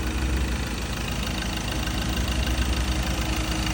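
A 2017 Ford Ranger 2.2 XL pickup engine idles steadily up close, a continuous low diesel-like rumble with a faint knocking texture and no talking.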